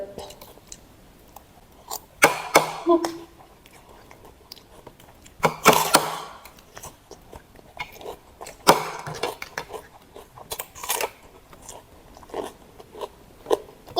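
Fish roe being chewed and bitten in a few close, wet crunchy bursts with quiet gaps between, while a person makes occasional vocal sounds.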